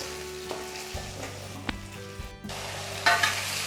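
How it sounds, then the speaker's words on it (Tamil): Chopped ginger, garlic and onion fry in a pan for chutney, giving a steady sizzle with occasional spatula taps and stirring scrapes, a brief lull, then a louder burst of hissing near the end, no voices. "இந்த இஞ்சி பூண்டு வெங்காயம் வதங்கும் போது ஒரு ஃபென்டாஸ்டிக் அரோமா வரும் பாருங்கள்."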